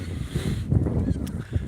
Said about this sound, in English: it's just windy.